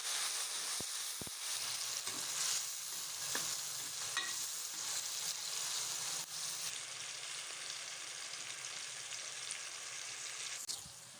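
Onions, green chilies and tomatoes fry in a pan with a constant soft sizzle, and a few sharp clicks of stirring break through now and then. No one speaks.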